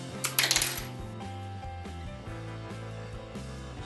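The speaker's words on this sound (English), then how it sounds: "Now I'm just going to use these wire cutters here to just cut the spoons down." Wire cutters snip through the handles of dollar-store metal spoons, giving a quick cluster of sharp metallic clicks and clinks near the start. Steady background music plays underneath.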